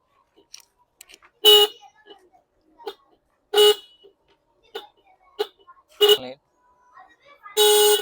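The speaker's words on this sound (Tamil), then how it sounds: "ஹார்ன் அடிக்குது" A Scooty Pep scooter's horn gives several short, loud honks in bursts, separated by quiet gaps with faint clicks and small noises between them.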